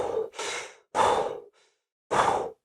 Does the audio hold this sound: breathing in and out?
yes